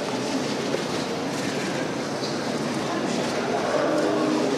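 A Jakarta-Bandung high-speed train running, heard as a steady, loud broadband rush and rumble that continues unbroken from start to finish, with faint voices underneath.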